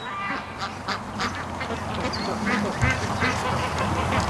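Ducks quacking outdoors by a creek or lake at evening, a steady run of overlapping quacks and calls over a constant background hum, moderately loud throughout.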